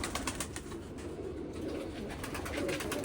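Jamuni pigeons in a fancier's loft coo softly and repeatedly against a steady, faint background hum.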